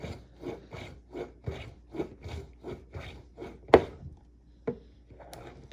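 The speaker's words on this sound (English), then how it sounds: "Turn this and just scrape it like cheese." A homemade CBD-infused soap bar is scraped across its bottom with a blade in about ten even, rasping strokes, close and dry, ending with a sharp click and a few lighter scrapes.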